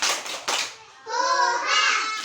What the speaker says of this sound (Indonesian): Ayo kita tepuk semangat bersama dulu ya